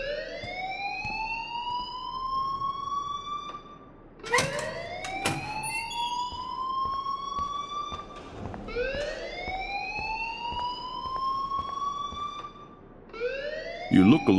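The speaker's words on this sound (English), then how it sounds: "please turn off that alarm since that's your job" A fire alarm in the Life is Strange video game wails in loud, repeating rising sweeps, each cycle lasting about four seconds and cut by sharp clanging bursts between them.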